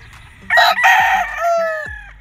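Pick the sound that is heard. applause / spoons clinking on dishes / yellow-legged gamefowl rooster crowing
yellow-legged gamefowl rooster crowing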